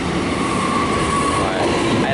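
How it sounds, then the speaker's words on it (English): A Melbourne suburban train at South Morang station rumbles steadily close by, with a thin metallic whine from the wheels or motors running through the short stretch. "This will be the train that I'm taking"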